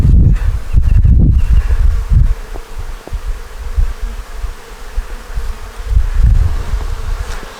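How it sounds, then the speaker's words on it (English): Honeybees buzzing around an opened hive box during an inspection, a loud close drone that swells and fades in waves, with occasional rustling and knocks from handling the frames. "These are bees, and it has pollen all the way around here."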